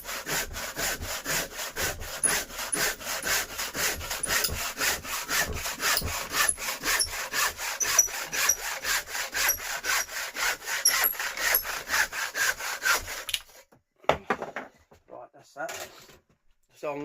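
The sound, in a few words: cutting and sanding wood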